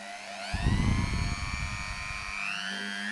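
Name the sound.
TECCPO mini drill running at different speeds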